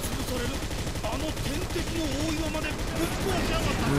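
Rapid gunfire from the video game Basara 4 Sumeragi, shooting continuously at a giant boulder, with dense crackling bursts running throughout under game music and effects.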